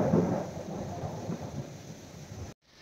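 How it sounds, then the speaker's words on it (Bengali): Thunder rumbles low and heavy during a Kalbaishakhi thunderstorm, layered over a steady hiss of heavy rain, fading slightly before cutting off abruptly. "আর আকাশ ডাকার আওয়াজ তোমরা নিশ্চয়ই শুনতে পাচ্ছ"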